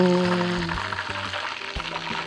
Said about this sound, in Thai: เร่งไฟอันดับสุดท้ายครับ เป็นการทอด เพื่อไล่น้ำมัน ให้มากที่สุด